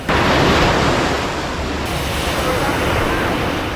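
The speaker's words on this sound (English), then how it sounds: "There's a little bit of wind still from that hurricane and the sound of the ocean." Ocean waves washing in with leftover wind from a hurricane: a loud, continuous broadband rush of surf and wind buffeting close to the microphone, steady throughout with no distinct individual breakers.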